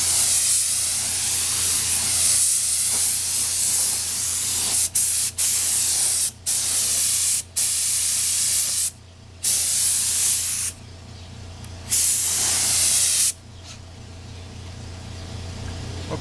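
Spray gun laying a white base coat on Yamaha FZ600 motorcycle parts, a loud steady hiss in several long bursts separated by short pauses, close and with no talking.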